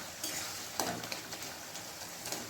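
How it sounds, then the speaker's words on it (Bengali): A spatula stirs and breaks up a thick cauliflower-stem curry in a pan, giving a soft sizzle with a few close scraping and mashing strokes over about two seconds, with no talking. "তো এবার খুন্তি দিয়ে ভালো করে একবার নাড়াচাড়া করে এইভাবে খুন্তির সাহায্যে সবজিগুলোকে ভেঙে ভেঙে দিতে হবে"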